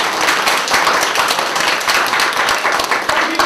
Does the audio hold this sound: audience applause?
yes